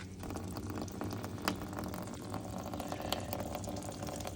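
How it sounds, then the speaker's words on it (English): Liquid gushing from a punctured, airlocked plastic milk jug once the lid is removed, a steady broadband watery splashing and gurgling that runs continuously at moderate level, close by, with no talking. "This is what happens if you take the lid off of an airlocked milk jug with a hole in it."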